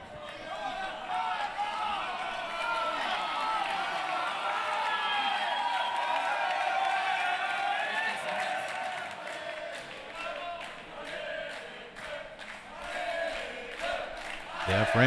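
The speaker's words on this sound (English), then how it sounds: "The French crowd imploring their men to keep this match alive and send it to a 5th and final game." A French crowd at a foosball world cup doubles semifinal chants and cheers continuously, a rising mass of voices with rhythmic clapping building toward the end.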